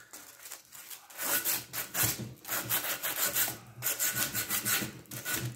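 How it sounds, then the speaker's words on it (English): Sandpaper scrubs back and forth over the metal valley pan of a 1968 Pontiac GTO 400 engine in steady, rasping strokes with a short pause near the middle, close and fairly loud with no talking. "I should grab some sandpaper and clean up a little better."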